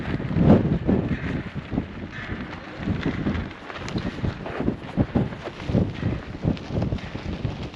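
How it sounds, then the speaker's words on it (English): Wind gusting across an exposed hilltop on the Camino de Santiago near windmills, a loud buffeting roar on the microphone that rises and falls in bursts throughout, with footstep-like thumps underneath. "the reason why it's been windy, you can see from the windmills"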